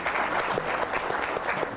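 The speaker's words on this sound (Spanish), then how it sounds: "Un aplauso también para Juan Pablo." An audience at a talk on financial fraud claps for a brief moment, a close, dense patter of many hands lasting under two seconds.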